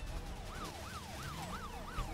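Police car siren from the racing game Need for Speed Rivals wails in a steady rising-and-falling cycle, about four sweeps over two seconds, mid-loud over a low engine rumble.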